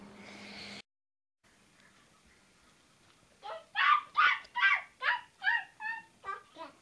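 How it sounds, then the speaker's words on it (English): Chickens clucking in a backyard, a run of about ten loud, rhythmic squawking calls close by after a short quiet stretch, with a brief sound at the start. "What are the chickens doing?"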